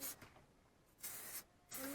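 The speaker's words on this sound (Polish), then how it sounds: "Teraz psika jak spray właśnie, a tam to taki strumień." Short bursts of hissing spray, three quick puffs from a spray bottle spaced apart, fairly close, with quiet background between, while cleaning an Opel Astra wheel arch.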